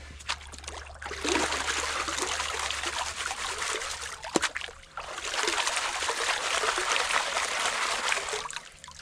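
Hands splash and swirl through icy, frost-morning stream water during gold prospecting in the Midwest, with a steady close trickling and sloshing that pauses briefly midway before resuming.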